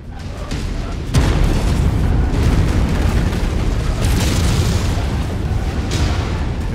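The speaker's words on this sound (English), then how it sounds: "Horrible bombardment." Artillery bombardment pounds away in a mech combat video game, a dense rolling barrage of booms that thickens sharply after the first second and keeps rumbling loud and continuous, with brief bursts flaring on top.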